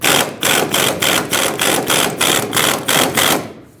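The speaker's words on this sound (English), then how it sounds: "Now put your impact on it and blast it off." An impact wrench blasts off the shock absorber mounting nut on a 2011-2018 Ram 2500. About ten rapid, evenly spaced hammering pulses ring out loud and close, then stop abruptly.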